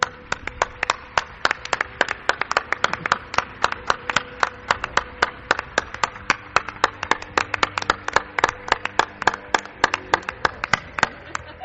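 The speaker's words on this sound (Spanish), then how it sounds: "quiero un aplauso, Clara Tauces." Audience applause greets a guest on the Spanish mystery podcast Milenio 3: a steady stream of sharp, crisp claps runs throughout, fairly close and continuous for the whole stretch.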